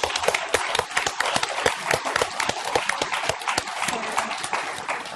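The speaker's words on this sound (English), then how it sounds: "give them a round of applause" A small audience claps at an award ceremony, sparse individual hand claps in an irregular patter, close and distinct rather than a dense wash.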